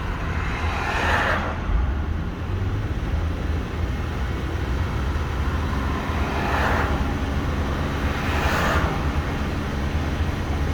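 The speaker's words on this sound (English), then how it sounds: "If I rev it up" A Holden Calais engine at normal operating temperature after its cooling system was bled, a steady low idle hum running throughout with a few short rises in pitch where the throttle is blipped, near and without speech.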